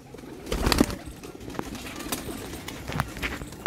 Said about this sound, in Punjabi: ਦੇਖੋ ਜ਼ਰਾ ਕਬੂਤਰ